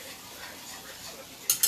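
Whisking a creamy Alfredo sauce with garlic in a pan: a soft, steady stirring scrape that runs throughout, ending in two brief sharper clinks of the whisk against the pan.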